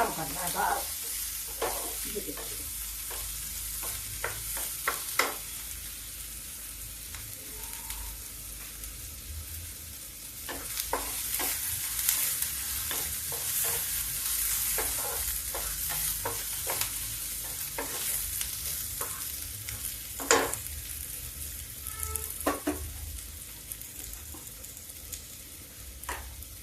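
Onions fry in a pan and are stirred now and then, with a steady soft sizzle broken by scraping and clattering strokes of a spoon throughout.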